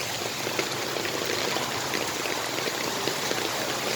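Rainwater flowing over a flooded road in steady rain, a dense, even rushing and trickling wash with pattering drops, close and continuous, with no voices.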